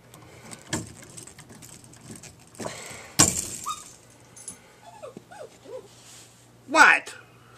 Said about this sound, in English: If you hear a dog in the background, that's my dog.